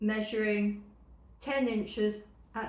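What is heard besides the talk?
No distinct noise like a dog, phone or traffic.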